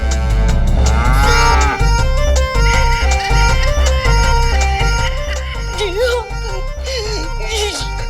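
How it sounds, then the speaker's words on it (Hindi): A buffalo on a farm in an Indian comedy TV serial moos repeatedly under loud, continuous background music, with voices talking over it. "माँ, हमें भैंस चाहिए।"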